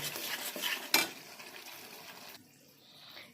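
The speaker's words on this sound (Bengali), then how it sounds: "মশলাটা আর একটু কষে নেবো" Spice paste for egg korma is stir-fried in a pan, with a soft frying hiss and stirring scrapes plus one sharp metallic clink, the sizzle dropping away near the end.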